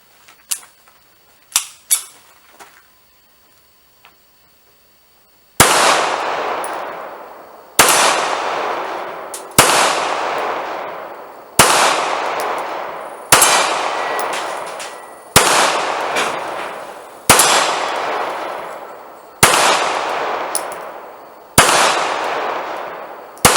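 A Sccy CPX-3 pistol fires steel-case ammunition at steel targets outdoors, with light clicks and handling noises at first, then about ten loud, evenly spaced shots, each followed by a long ringing decay.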